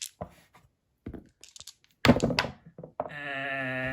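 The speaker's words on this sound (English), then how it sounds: "Can I roll them both with this dice once?" Dice clatter and thunk onto a tabletop during a Warhammer 40K wargame, several short rattling bursts close by, followed by a sustained tone.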